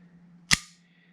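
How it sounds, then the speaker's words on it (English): An Elite Force M9 airsoft pistol fires a single close, sharp snapping shot over a faint steady hum, the crack fading quickly into quiet. "And that's kind of the feeling that you get when you're shooting the gun. It just snaps."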